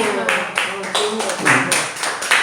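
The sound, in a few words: congregation clapping in church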